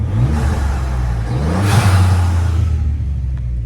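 A tuned Ford EcoBoost F-150 pickup engine revs up loudly from a steady idle, swelling into a brief roaring, whooshing rise before settling back to a constant rumble, with no talking.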